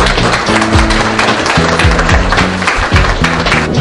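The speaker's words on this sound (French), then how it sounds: "que je vous demande d'applaudir" Applause from an audience at an exhibition opening ceremony, a steady dense clapping that runs for the whole span, with music playing underneath it.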